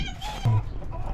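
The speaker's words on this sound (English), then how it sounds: "I caught a chicken asleep for the first time" Chicken clucking close by, a short burst of hen calls over a low rumbling farmyard background.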